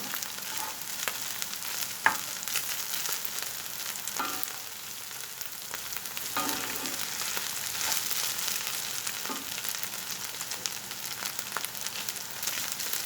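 Chopped garlic frying briefly in a pan for a courgette and minced meat dish, a steady bright sizzle running throughout with a few soft stirring knocks, close and alone.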